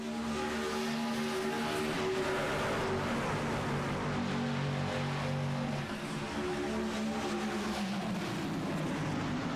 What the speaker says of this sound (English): As the racing continues on here in Daytona